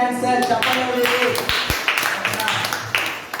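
Audience clapping at a Bible quiz after a correct answer, a loose patter of claps spread across the room, fairly close, with voices talking over it.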